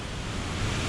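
Flooded waterfall on a walk down Sunnybank Road roars as a steady, dense rush of broadband water noise, close and constant with no pauses.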